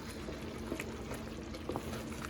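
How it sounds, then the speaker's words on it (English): Blackberry jam boils in a pot with a low, steady bubbling and gentle popping, close and quiet with no talking. "It is boiling no matter what, rather if I'm stirring it or not."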